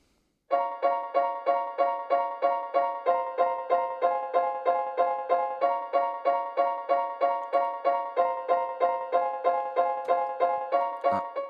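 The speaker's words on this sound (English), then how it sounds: "the piano is basically playing stabs of the chord that I just showed you" Piano stabs steady eighth-note chords in a groove at 94 beats per minute, an even, unbroken pulse of short repeated chord hits, loud and alone for several seconds.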